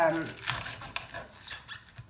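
Light clattering taps of a knife and board while chopping vegetables for a chicken stir fry, a few irregular knocks spaced apart with faint kitchen clinks, no talking over them.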